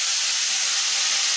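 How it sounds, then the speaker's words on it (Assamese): Water poured into a hot pan of spices flashes off in a strong, continuous hiss of steam that is close and loud for its short length, with no voices. "এতিয়া পানী দি দিম।"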